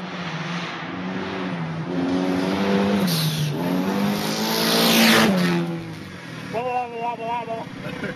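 A rally car being driven and revved, engine note rising and falling in harmonic sweeps, loud and close, with a brief high squeal near the end.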